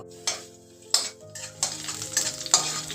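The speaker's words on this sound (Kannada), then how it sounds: "ಬೆಳ್ಳುಳ್ಳಿನ ಹಾಕ್ಕೊತಾ ಇದ್ದೀನಿ ಫಸ್ಟು ಬೆಳ್ಳುಳ್ಳಿ ಹಾಕೊಂಡ್ಬಿಟ್ಟು ಇದು ಫ್ರೈ ಮಾಡ್ಕೋಬೇಕು" Garlic frying in oil in a pan for a curry leaf chitranna rice dish: a steady, close sizzle broken by several sharp bursts and spoon-stirring scrapes, with no voices.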